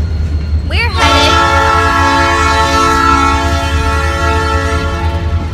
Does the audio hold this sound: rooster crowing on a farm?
no